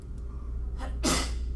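A single sharp sneeze bursts out near the close, loud and abrupt after a quick inhale, in a quiet indoor room.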